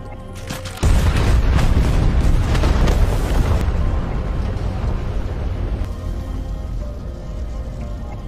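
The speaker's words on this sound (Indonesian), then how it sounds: "Dan setelah itu pun ledakan pun terjadi." A heavy explosion from an F-16 jet strike in a war film erupts suddenly and loudly, a deep roaring blast that rumbles on and slowly fades away.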